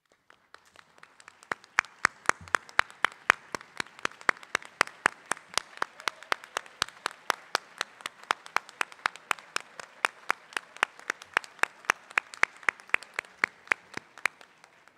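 At a virtual school graduation ceremony, an audience applauds the parents and guardians, with steady, evenly spaced claps that sound like a small group or a single clapper, moderately quiet and continuous throughout.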